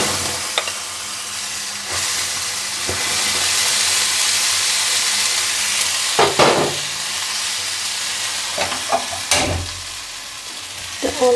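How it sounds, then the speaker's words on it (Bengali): Vegetable batter frying in a little ghee, a loud, continuous sizzle with scattered scraping and stirring clatters of a utensil against the pan. "আমার সামান্য একটু ঘি দিয়ে দিব আমি। এবার আমি ব্যাটারটা দিয়ে দিচ্ছি।"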